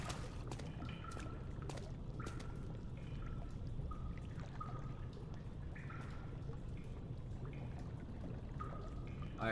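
Water trickling and dripping in Amnesia: The Dark Descent, a faint continuous pouring wash with scattered small drips and splashes over a low ambient rumble.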